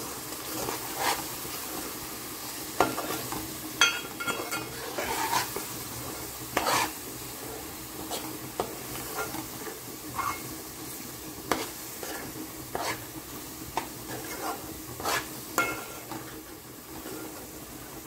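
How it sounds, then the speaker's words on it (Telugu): A spoon scrapes and clicks in a pan in an irregular rhythm while chili powder is mixed into a mung bean fritter curry, over a low, constant sizzle close by. "కారం వేసుకున్నాక ఒకసారి బాగా కలిపేసుకుని"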